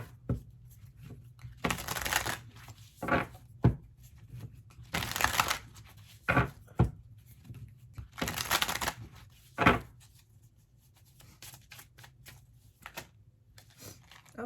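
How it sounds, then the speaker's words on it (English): Oracle cards shuffled in repeated bursts of dry riffling and flicking, close and fairly loud, with short pauses and soft taps between, over a low steady hum with no talking. "But now I'm just going to pull some oracle cards."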